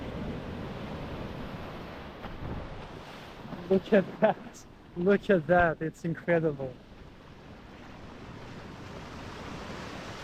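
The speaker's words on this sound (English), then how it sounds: "Look at how the waves are building so fast, and they're so strong." Strong ocean waves break and wash onto a historical beach in Porto, Portugal, a steady roar of surf and wind throughout, with someone talking excitedly in the middle.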